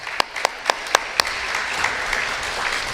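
Audience applause at an FFA ham and bacon sale, starting as a handful of sharp, separate claps and then blending into a steady, moderate patter of clapping from a small crowd.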